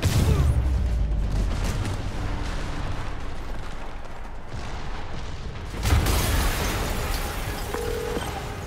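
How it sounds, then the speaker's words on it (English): Explosion in the Marvel's Spider-Man Remastered video game, a loud rumbling blast at the start and a second burst later, with sustained roaring debris and rumble filling the whole stretch. "an explosion just- I saw it."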